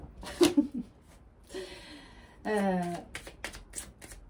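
Oracle cards being shuffled during an angel-message reading, heard as a few short papery riffles and flutters between quiet gaps, with faint vocal sounds mixed in.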